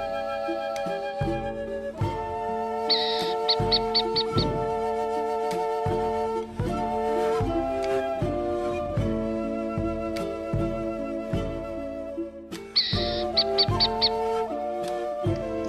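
Morning birds call near Termas de Río Hondo in Argentina, with repeated tonal notes and quick chirping trills over a steady, dense backdrop of other calls, loud and continuous, with no voices.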